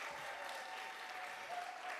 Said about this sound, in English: Let's give them an extra loud round of applause